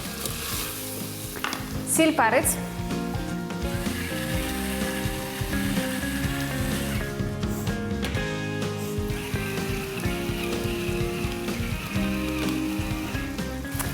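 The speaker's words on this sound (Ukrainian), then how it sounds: "Все, і залишаємо це трішки смажитися." Ingredients for Cossack kulish fry in a pan with a loud, steady sizzle and occasional stirring scrapes, while a voice speaks briefly over it.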